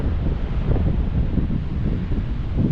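Strong wind buffets the microphone in a constant low roar, with no other sounds standing out, on a mountain hike in the Fann Mountains, Tajikistan.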